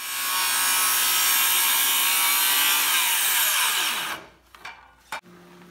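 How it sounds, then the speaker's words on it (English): A saw cuts across a timber floor sill while shaping a tenon for tiny-house timber frame joinery: a loud, steady roaring cut for about four seconds, then the whine drops away, followed by a few brief knocks and handling sounds. "Now we got to make cuts that come from here all the way across."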